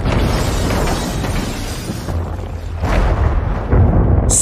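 A large explosion booms with deep rumbling energy, followed by rolling blasts and crackling debris, loud and continuous throughout.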